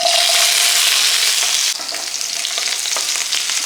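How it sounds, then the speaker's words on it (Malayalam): Shallots drop into hot oil and fry with a loud, dense crackling sizzle close by, the noise easing slightly midway as stirring continues, with no voices. "ആ ഉള്ളിയും കൂടി എണ്ണയ്ക്കകത്തോട്ട് ഇട്ട് കൊടുക്കുക"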